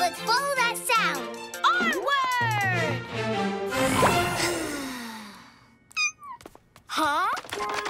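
Cartoon kitten meows several times in a children's animated show, high rising and falling cries between bursts of child-like character speech, with a whoosh and a soft hit partway through.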